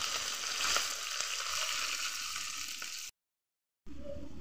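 Chopped onions frying in a pan while being stirred, a steady soft sizzle with faint scraping, broken by a brief silence before the hiss resumes.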